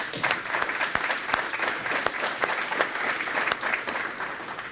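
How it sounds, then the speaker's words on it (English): Audience applause at a Veterans Day ceremony, a steady crowd of hands clapping continuously at moderate distance, with a few sharper individual claps standing out. "So could we give them a round of applause?"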